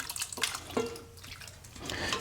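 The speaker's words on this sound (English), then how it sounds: "I just pour it into a stainless steel container." Cooled stewed cherries with no added sugar are poured into a stainless steel container, making soft, intermittent wet splashes and trickles at a fairly low level.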